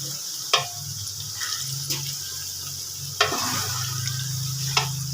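Chopped okra (bhindi) frying in a pan for a Pakistani-style vegetable dish, giving a steady low sizzle with a few sharp clinks of a utensil stirring against the pan, and no talking.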